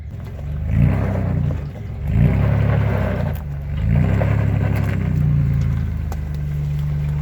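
Ford 8N tractor engine cranks and fires in repeated surging bursts, a loud, low, close rumble that rises and falls about four times before settling into a steady run.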